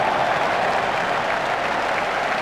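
Cricket crowd at an England versus New Zealand Test applauding Michael Vaughan's fifty, a steady, dense wash of clapping that holds evenly throughout without breaks.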